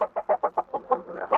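A rooster among fighting cocks lets out a rapid run of about nine clucking calls, close and fairly loud, each burst evenly spaced, with no talk over them.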